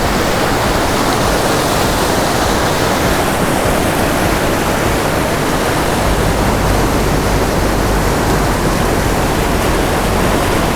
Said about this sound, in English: rushing water that's nice